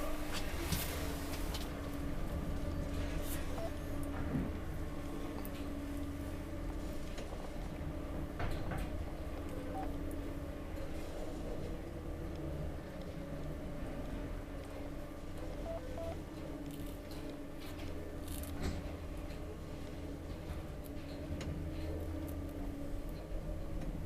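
An old Kone traction elevator carries passengers in a Finnish apartment block in Kivenlahti, Espoo. A steady low mechanical hum and rumble runs throughout, with a few soft knocks and clicks from the car and doors.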